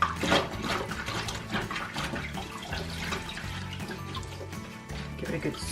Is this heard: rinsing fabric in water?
yes